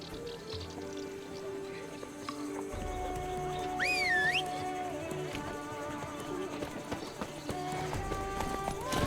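Hooves of Roach, a horse in The Witcher 3: Blood and Wine, clip-clop steadily at a walking pace amid ambient game music and background sounds, with a brief rising whinny-like tone in the middle.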